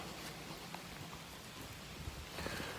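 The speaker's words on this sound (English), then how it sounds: "I'll have a little walk in the rain" Light rain falls steadily outdoors during a morning walk, a faint, continuous hiss with scattered drop taps and no talking.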